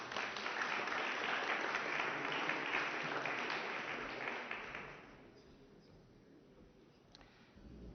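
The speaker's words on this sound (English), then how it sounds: "A round of applause, please." Audience applause at a Ukraine Recovery Conference press conference: a loud, dense round of clapping for about five seconds, then it quickly thins to scattered claps and room quiet.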